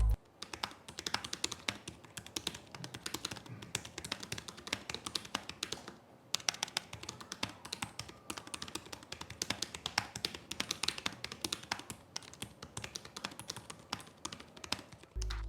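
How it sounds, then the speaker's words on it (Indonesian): Typing on the keyboard of a 2022 ROG Zephyrus G14 G402RK-R9 Advantage Edition gaming laptop, rapid soft key taps in a steady continuous stream, close and clear with a short pause midway. "berikut ini adalah contoh suara feedback dari keyboard ROG Zephyrus G14 G402RK-R9 Advantage Edition 2022"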